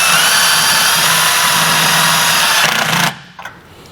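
Power driver whirring steadily as it drives a self-tapping screw to mount a trailer brake controller circuit breaker, a loud continuous buzz for about three seconds that cuts off abruptly, followed by faint clicks.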